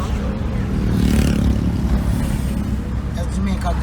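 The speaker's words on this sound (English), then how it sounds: "That's Jamaica garbage truck." Garbage truck passing on a road in Jamaica, a steady loud low engine rumble with some rattling, close by, while voices talk over it.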